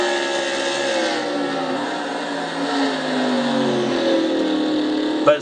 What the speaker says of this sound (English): you can hear it, by the way, as they go through the end of the turns, the scream of these engines